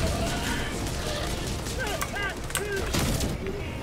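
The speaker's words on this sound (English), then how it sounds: "I love this new pistol." Gunfire from a new pistol in the co-op shooter Helldivers 2, several sharp shots cracking over continuous battle noise, with voice-like sounds mixed into the busy, loud scene.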